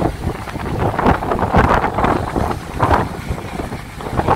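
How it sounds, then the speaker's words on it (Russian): Sea waves rolling onto a resort beach in moderate swell, with gusty wind buffeting the microphone in loud, continuous rushing surges. "Ох ты, там такие волны."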